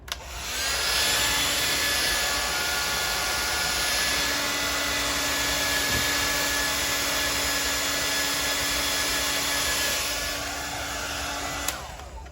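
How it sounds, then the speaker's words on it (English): A hair dryer runs steadily at close range for about twelve seconds while a sculpted figure head is being worked on, giving a loud, unbroken whooshing hum that cuts off near the end, with no talking over it. "so we hit the hair dryer again."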